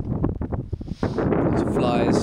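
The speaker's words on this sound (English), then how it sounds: "Very windy." Strong wind buffets the microphone in rough gusts on the Nullarbor Plain, loud and close, with a voice briefly audible underneath at the start.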